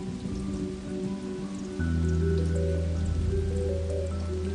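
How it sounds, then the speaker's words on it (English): Steady patter of light rain falling on a surface, continuous and even, with a low droning hum underneath. "Absorbing the gentle drizzles from dawn to dusk."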